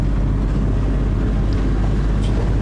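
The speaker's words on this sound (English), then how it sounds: "We've lost the wind, so we've just popped on the engine" A sailboat's engine drones loud and steady while motoring at sea between Mallorca and Portugal, with wind rushing over the microphone and no speech.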